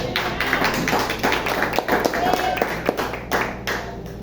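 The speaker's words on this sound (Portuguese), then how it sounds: "dar uma linda salva de palmas para Jesus" A church congregation gives a round of applause, a fairly close, dense patter of hand claps with irregular sharper slaps, steady at moderate volume and with no speech over it.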